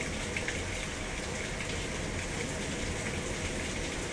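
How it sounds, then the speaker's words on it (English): Steady rain falls throughout, a dense continuous hiss with soft patter of drops on surfaces, no voices. "I don't know if you can hear it, but it's raining."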